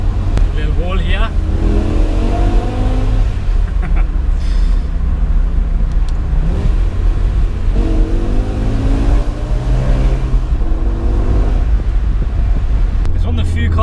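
A BMW M5 E60 accelerates hard through its gears, the engine note rising in repeated sweeps that drop at each shift, heard loud from inside the car with wind noise and someone talking.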